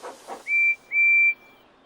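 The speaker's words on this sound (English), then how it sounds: "Thomas listens to Percy's whistle." Two short whistle blasts from Percy, the steam engine of Thomas & Friends, the second slightly longer, both clear and shrill over a quiet background, with a soft hiss just before.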